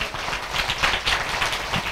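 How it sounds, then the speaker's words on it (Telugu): Loud clapping from a congregation at a church anniversary service in Kurnool district, a steady dense patter of many hands filling the space without pause. "గట్టిగా చప్పట్లు కొట్టండి."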